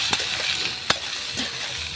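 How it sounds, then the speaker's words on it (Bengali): A steady close sizzle of onion and dried fish (shutki) frying over an outdoor wood fire, with a few sharp stirring clicks. "পেঁয়াজটা আর সুটকিটা অল্প অল্প ভাজা ভাজা হয়ে গেছে"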